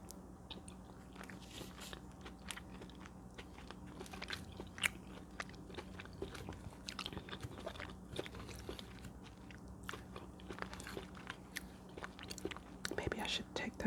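Chicken pot pie is bitten and chewed close to the microphone, with soft crunches and wet mastication repeating in a steady stream, faint and intimate in the whispered style of an eating performance.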